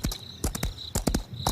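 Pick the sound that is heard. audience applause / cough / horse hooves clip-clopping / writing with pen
horse hooves clip-clopping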